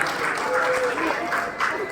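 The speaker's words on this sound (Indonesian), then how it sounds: "Tepuk tangan untuk CGP Angkatan 9 Kabupaten Bekasi." A hall audience at an Indonesian teachers' program event applauds steadily, a dense, even wash of many hands with a faint voice underneath.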